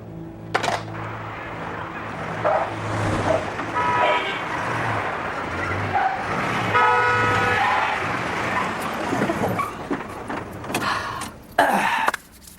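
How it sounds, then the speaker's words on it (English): A racing car's engine runs under a steady roar, with a horn giving two sustained harmonic toots in the middle and a sharp louder burst near the end. "This is a racing car."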